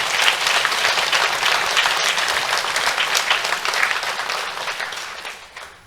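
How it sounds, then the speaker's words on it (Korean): Sustained applause from a room full of people at a Korean religious service, steady and dense for several seconds before tapering off toward the end. "우리 신입단들께 감사의 박수를 좀 보내주시면 좋겠습니다"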